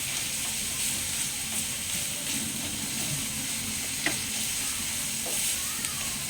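Ground pork or beef frying in its own rendered fat in a home pan sizzles in a steady, moderate crackle, with soft stirring scrapes and a few sharp pops, no voices.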